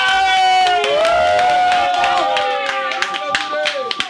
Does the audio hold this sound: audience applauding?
yes